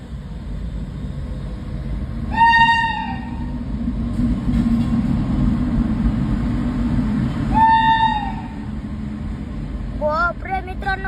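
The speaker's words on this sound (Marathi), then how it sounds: "दुसरी पण ट्रेन आलेली आहे म्हणून ही थांबली आहे।" A train at a railway station sounds two long horn blasts a few seconds apart over a steady rumble of rail traffic and crowd noise, with voices talking throughout.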